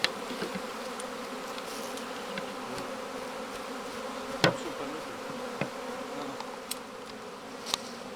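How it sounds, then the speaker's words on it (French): A steady, close buzzing of a honeybee swarm being collected from a tree, with a few sharp ticks and knocks scattered through it. "donc là vous voyez les abeilles s'appellent"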